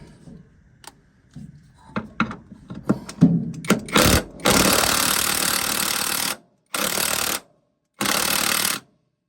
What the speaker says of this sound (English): we got the old impact out here. So we're going to hit it with that, see if we can't loosen it up